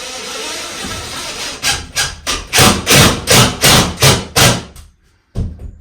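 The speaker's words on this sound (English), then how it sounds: "we can start getting some screws in here where they need to be" Screws being driven to fix plaster bead during a plastering job, a close, loud run of about ten rhythmic grinding bursts, each one a second or less, stopping before one last short burst.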